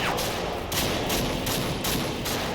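Rapid bursts of gunfire from the video game Fallout 4 sound loud and close, several shots cracking in quick succession over a dense, continuous roar of battle.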